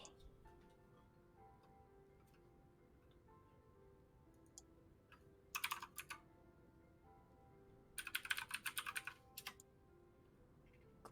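Computer keyboard typing during a PC game login. Faint, light key clicks tick in the background, then swell into two short, louder rattling flurries.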